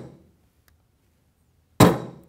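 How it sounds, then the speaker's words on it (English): Dead blow hammer striking a wrench to seat an espresso machine steam tap on an Expobar Brewtus, one sharp, close metallic thump near the end after near silence, preceded by a faint fading sound and a tiny tick. "then take a little hammer,"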